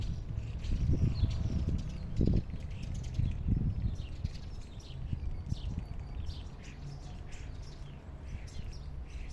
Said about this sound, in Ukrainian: Послухайте, як неймовірно співають на нашому майданчику пташки.